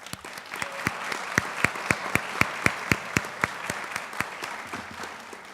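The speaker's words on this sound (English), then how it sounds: "Can we give them another round of applause?" Applause at an honors night ceremony, a sparse steady patter of hands with a few distinct louder claps standing out in a regular rhythm, fairly close and continuous.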